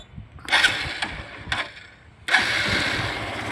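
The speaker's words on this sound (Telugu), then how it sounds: "స్టార్ట్ చేసుకొని చూపిస్తాను వీడియో మీకు" A 2014 Honda Unicorn motorcycle is started: a few short cranking bursts, then the engine catches and settles into a steady, close idle.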